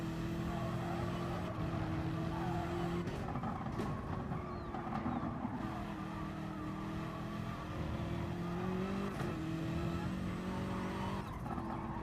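A BMW GT3 race car in a racing video game at Autopolis holds a steady, droning engine note with shifting pitch as it is used to slow the car, running continuously and fairly quietly throughout.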